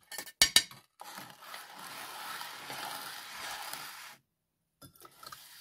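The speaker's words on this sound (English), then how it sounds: "Just work it back into the centre and then carry on grinding until it becomes lovely and smooth" Natural pigment being ground with a binder into watercolour paint, a steady gritty scraping that runs for several seconds after a couple of sharp clinks, then stops briefly before faint taps resume.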